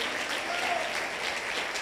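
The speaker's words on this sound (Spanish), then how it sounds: "dele otro aplauso tan lindo al Señor" A church congregation claps together in praise, a dense, steady round of applause sustained throughout at moderate level, with no voice heard over it.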